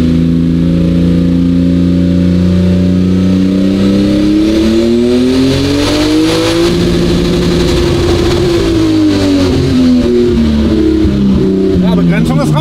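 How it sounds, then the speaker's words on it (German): A car with a power-restricted 2JZ engine accelerates at full throttle, its loud close engine note climbing steadily in pitch, then dropping and rising again as it pulls hard, with voices likely talking over it. "Gibst du Vollgas?"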